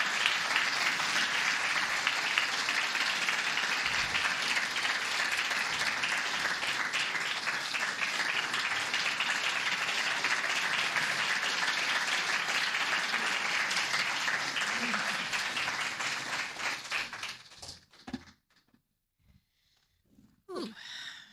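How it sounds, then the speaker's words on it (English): Sustained audience applause at an annual community event as an award recipient takes the stage, a full, even roar of clapping lasting many seconds before fading out into near silence with a few faint stray sounds. "please join me in applauding Suzanne as she takes the stage to receive an"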